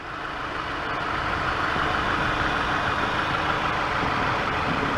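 A 2008 Dodge Avenger with over 190,000 miles runs with a loud, steady engine drone, close up and unbroken, with no talking over it.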